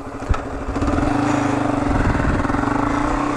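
A motorcycle engine revs hard as the rider attempts a wheelie, a loud, close, throbbing roar that climbs after a sharp knock at the start and holds steady with a pulsing beat.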